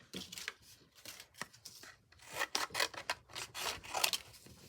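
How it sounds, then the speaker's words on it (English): Scissors cutting out paper in a sequence of crisp snips and rubbing, rasping strokes, close and fairly quiet, with bursts clustered in quick runs. "So I'll go ahead and cut this out."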